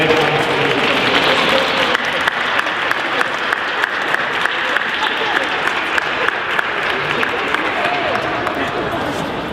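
Graduates at a college graduation ceremony applaud their families and friends, a full, sustained clapping from a large crowd with a few louder claps standing out and voices faintly mixed in.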